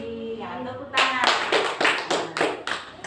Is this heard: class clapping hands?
yes